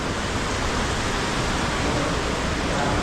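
At a temple, water flows down in a steady, dense rush that stays even and loud, like a close cascade, with no pauses and no voices.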